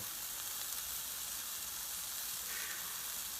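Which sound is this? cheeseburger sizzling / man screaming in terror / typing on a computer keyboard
cheeseburger sizzling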